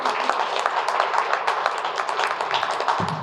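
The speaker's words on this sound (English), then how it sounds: "Let's get a round of applause for that" An audience applauds at a college enrollment press event, a steady dense round of clapping filling the whole stretch at moderate loudness, with no speech over it.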